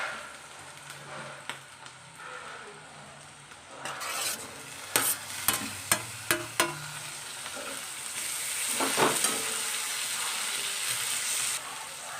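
Onion and tomato sizzle and fry in a pan for a spiced sprouted moth bean dish, with steady hiss and several sharp scraping stirs partway through, close and moderately loud, no talking.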